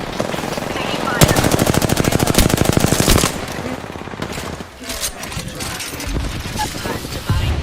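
Automatic weapon fire in a shooter video game, a loud rapid burst lasting about two seconds, then scattered shots and game effects under brief in-game voice callouts.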